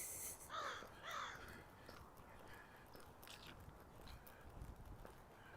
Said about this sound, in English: Oh, there's the crow.